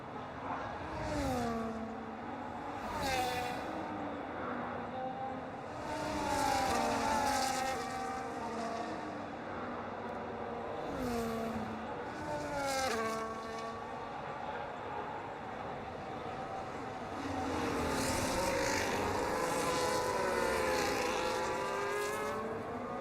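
Several race cars rev and accelerate hard at the green-flag restart as the safety car pulls into the pit lane, engine notes rising and falling in overlapping waves, loud and continuous throughout.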